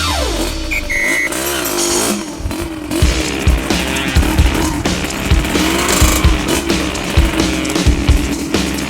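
A Yamaha DT125 Mono motorcycle is ridden, its two-stroke engine droning loudly and steadily with rising and falling revs, close by with no speech.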